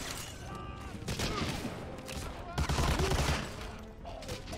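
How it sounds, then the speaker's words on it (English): Dense, crackling gunfire fills a bunker-clearing mission in the Medal of Honor: Allied Assault Breakthrough video game, a steady barrage of overlapping shots and bursts with faint voices under it. "Why is everyone shooting the bunker?"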